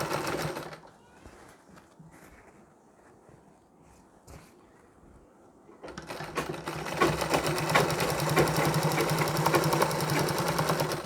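A sewing machine stitching fine stitches along a sari border starts with soft handling noises, then runs steadily and loudly with a fast, even mechanical chatter for the last five seconds.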